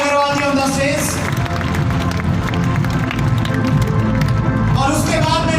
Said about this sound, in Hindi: जोरदार तालियों से आप स्वागत करें अनुराग अग्रवाल जी ऑन द स्टेज।